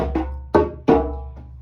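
Open djembe slaps with the fingers bouncing off the skin: three sharp, ringing hits spaced apart, close and loud, each with a bright attack and a short decay, followed by a faint fourth tap.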